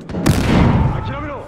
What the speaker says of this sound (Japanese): スナイパーに狙われている。